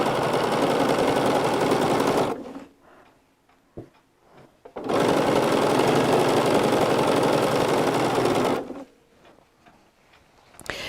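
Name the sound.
sewing machine sewing quilt fabric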